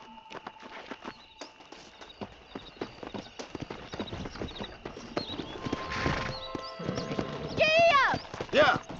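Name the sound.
horse galloping in video game Red Dead Redemption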